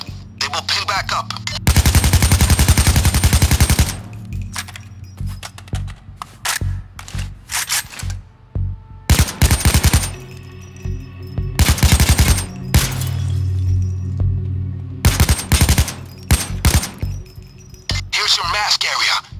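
Weapons firing in the Payday 2 video game's shooting-range room, with rapid bursts of automatic gunfire and scattered single shots, loud and close, alternating with stretches where someone talks.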